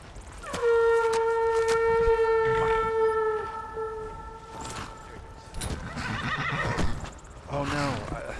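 A horse in the video game Skyrim gives a loud, drawn-out whinny with a falling pitch, followed by scattered hoof and movement sounds and a second, shorter neigh near the end.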